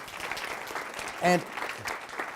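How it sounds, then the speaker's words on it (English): An audience applauds Bridget Moynihan of the Nature Conservancy at an evening of environmental feature films, a steady wash of clapping with a short, tonal voice-like call rising out of it midway. "Let's give a round of applause for Bridget."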